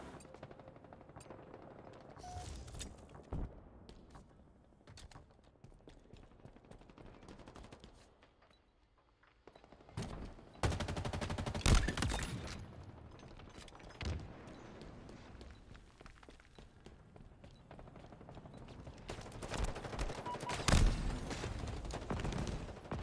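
Assault rifle fire in a first-person shooter game comes in loud bursts and rapid volleys, with quieter gaps and footsteps between the louder stretches of shooting.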